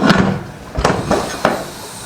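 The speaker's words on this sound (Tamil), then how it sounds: "நல்லா கொதிச்சிருச்சு இப்போ குக்கர் மூடி போட்டுக்கலாம்" A pressure cooker lid being fitted on a pot of boiling egg biryani in a home kitchen, with three sharp metallic clanks spaced about half a second apart over a steady background hiss.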